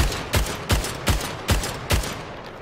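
Five sharp, evenly spaced Carbine shots ring out in the video game Splitgate as a training dummy is fired on, each crack close and punchy with a short tail, no talk over them.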